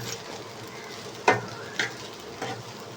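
Soybeans fried with rice and salt in a pan, giving a steady low sizzle with a few sharp stirring scrapes spaced about half a second apart.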